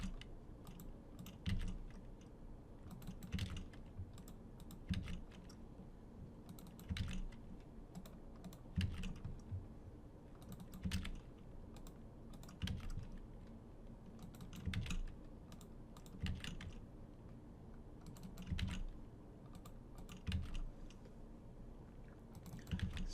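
Keys clack on a computer keyboard as spreadsheet figures are typed in, coming as quiet, uneven bursts of tapping spread across the whole stretch with short pauses between them.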